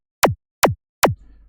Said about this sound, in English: this was supposed to give a little bit of that laser kick feel and the main tail of the kick